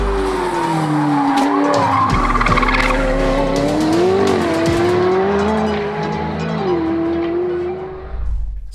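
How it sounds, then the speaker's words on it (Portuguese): A McLaren 570S sports car at speed on the Velocità racetrack in heavy rain, its engine roaring loudly and continuously with rising and falling pitch, mixed with tyre squeal and skidding before fading at the end. "escuta o motor"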